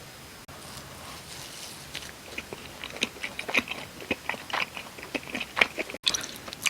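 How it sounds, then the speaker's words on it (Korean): Crisp, close bites and chewing of a corn cheese ball with corn sauce, soft crunches and moist chewing repeating irregularly after a quiet opening, with no talking. "이거는 콘주 치즈볼 한번 먹어볼게요"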